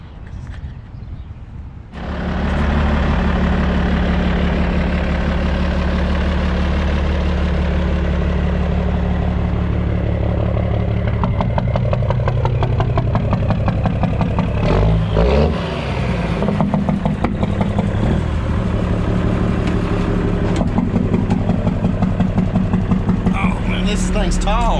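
A Mack rat rod truck engine starts up, then idles heavy and loud with a deep steady rumble and surges as it revs, continuing close for the full stretch while a voice talks briefly over it.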